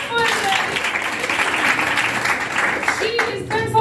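Students in a classroom clap for a classmate, a brief burst of many hands clapping close by, with a teacher's voice and some chatter mixed in toward the end.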